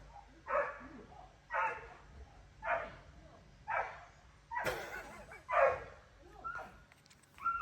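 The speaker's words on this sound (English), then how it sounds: "somebody's dog is having a fit." A dog barks repeatedly at a steady rhythm, about eight sharp barks spaced roughly a second apart, moderately loud and somewhat distant.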